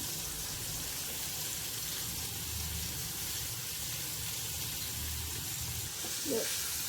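Finely chopped onions fry in hot oil in a pan for a spicy prawn roast, giving a steady, continuous sizzle and hiss that holds evenly from start to finish, with a small bump of added sound near the end.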